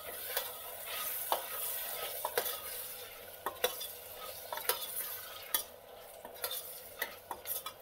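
Green beans and potatoes being stirred in a pan for a curry, with steady scraping and frying sizzle punctuated by repeated spoon knocks against the pan, close and alone without talk.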